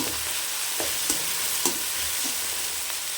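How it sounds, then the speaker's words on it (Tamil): Ginger garlic paste sautés in a pan with crushed shallots and green chilies for country chicken curry, a steady close sizzle broken by a few soft stirring scrapes. "நல்லா இந்த பச்சை ஸ்மெல் போகிற வரைக்கும் நல்லா வதக்கி விடுங்க."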